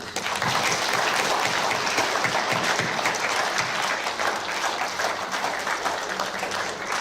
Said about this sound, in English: Please acknowledge their efforts with a round of applause.